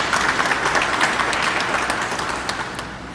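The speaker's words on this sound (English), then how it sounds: "give them a round of applause" An audience at an anniversary award ceremony gives a full round of applause, many hands clapping densely and loudly at first, then easing slightly toward the end.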